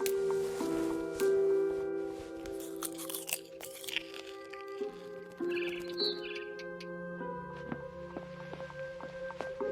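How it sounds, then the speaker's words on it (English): Barn swallow chirping in What Remains of Edith Finch, with short bright chirps over a layered tonal music bed and occasional crunching, moderately loud and without talk. "Then I heard chirping outside my window. It was a barn swallow going back to her nest."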